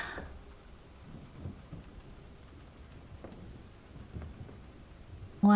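Rain with low rumbles of thunder in a spot-the-difference video game, a steady soft patter under occasional deep rolls, ending with a short bright tone; no talking.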